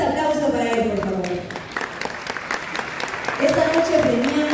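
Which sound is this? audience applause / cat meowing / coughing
audience applause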